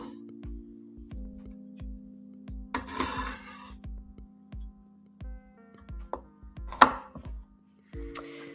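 A knife chops garlic on a cutting board in a home kitchen, with a quick run of crisp, close thuds at a steady rhythm, a few scraping sweeps across the board and a faint hum underneath.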